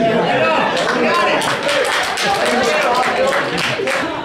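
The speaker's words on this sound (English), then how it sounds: "You're all clapping." A lecture audience at Montclair State University claps together in a dense, sustained patter of applause that fills the room, loud and steady for a few seconds.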